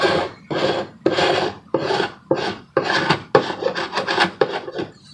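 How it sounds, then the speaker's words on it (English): A metal hive tool scrapes paint off the top edge of a wooden beehive box: about ten firm, close rasping strokes in a steady back-and-forth rhythm, with no talking. "I was just going to show you using the hive tool. Just take it and scrape across the top."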